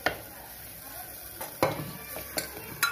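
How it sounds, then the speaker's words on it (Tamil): Mutton sukka masala frying in a pan as a spoon scrapes and stirs, several distinct clinks and scrapes over a soft continuous sizzle, close by and with no talk. "அந்த மசால் வாசனை போகிற வரைக்கும் லேசாக கலரணும்."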